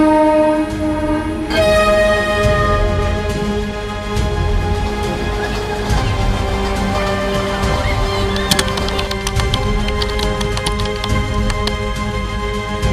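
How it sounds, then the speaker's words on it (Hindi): Trains pass through Hazrat Nizamuddin railway station in Delhi: a loud sustained horn blares over the steady rumble and clatter of rolling rail cars, with more horn tones mixing into the continuous station noise. "हजरत निजामुद्दीन रेलवे स्टेशन से सैकड़ों ट्रेनें गुजरती हैं।"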